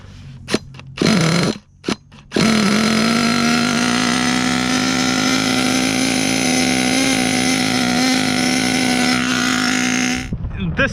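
HPI Savage XL K5.9 nitro RC engine, freshly primed, fires after a few short bursts, then holds a loud steady high-pitched idle drone close by for several seconds before cutting out.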